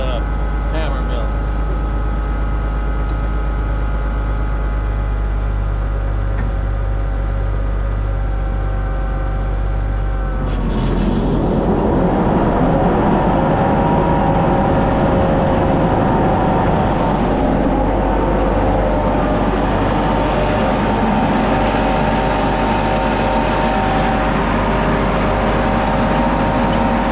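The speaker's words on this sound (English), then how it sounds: "like to let the belt warm up on the hammer mill" A tractor-driven hammer mill running on its main belt, a loud steady drone with a low engine hum that rises abruptly into a fuller, rougher roar as the mill is engaged partway through, with talk over it.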